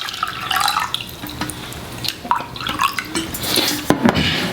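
Water is poured and splashes into a Presto Dorothy rapid cold brew coffee maker, with irregular trickles, drips and light glassy clinks heard close up and fairly loud, with no talking.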